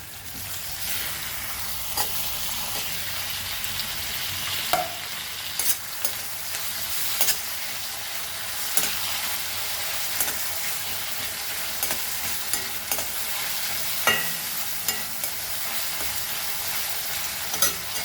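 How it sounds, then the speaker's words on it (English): Tomato frying in a pan for a Goan jackfruit seed curry, with a steady loud sizzle and regular scraping stirs throughout and no talk. "Now we'll add our tomato to this."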